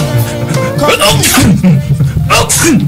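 One loud, close sneeze bursts out, with people talking around it.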